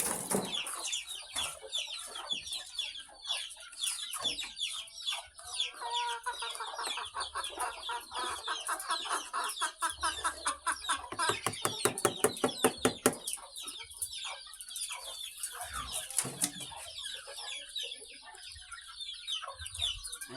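Young chicks cluck and peep in a dense, continuous chatter while being fed grain, close to the listener and steady throughout.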